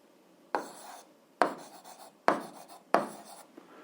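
A pen or chalk writes out a math solution in four distinct bursts of scratchy strokes, each lasting about half a second with short pauses between, close and clear with no voices.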